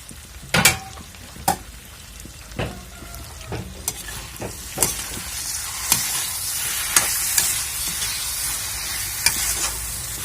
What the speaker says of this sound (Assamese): এতিয়া ঢাকনখন এৰুৱাই লৈ মই পুনৰ লৰাই দিম